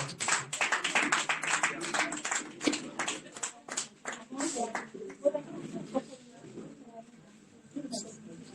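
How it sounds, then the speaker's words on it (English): Audience applause at a community meeting as a presenter is invited up: dense, steady clapping fills the first several seconds, thinning into scattered claps while a voice talks over it. "let's clap for our ambassador to go"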